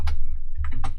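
A few quick, crisp keystrokes on a computer keyboard, close up and alone, as a short command is typed.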